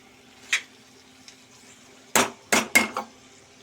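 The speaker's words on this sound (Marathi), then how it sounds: "आता याला मी झाकण ठेवते" A metal lid is set onto a pan of oil-fried onion and papdi (flat bean) bhaji, giving a quick series of loud, close clanks and knocks after a faint earlier tap; no one speaks.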